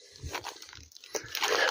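Disturbed vegetation gives close scraping and crunching, uneven brittle crackles and rustles in short bursts, near and fairly loud in an outdoor wildlife setting.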